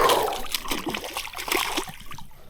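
A hooked bass or bluegill splashes and thrashes at the surface right beside a kayak as it is pulled from the water, with close, continuous sloshing and spattering that fades toward the end.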